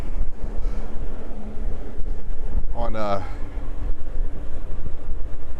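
Strong wind buffeting a microphone at JFK airport in New York, a continuous loud rumbling roar throughout, with a brief spoken phrase partway through.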